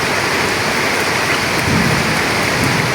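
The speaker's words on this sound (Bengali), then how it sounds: "প্রচুর বৃষ্টি হইতেছে।" Heavy rain pours steadily, a dense continuous hiss of drops drumming on surfaces, close and loud throughout with no voices.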